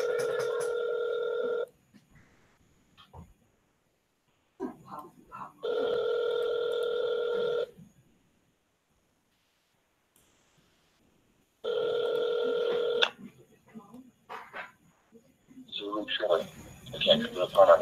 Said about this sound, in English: All right, I'm making a phone call here.